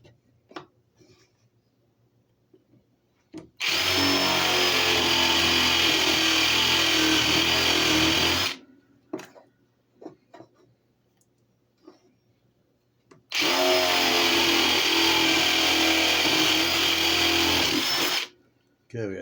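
A power drill bores holes through wooden pieces for a porch swing planter in two long, loud whining bursts separated by a pause with light handling clicks and brief talk.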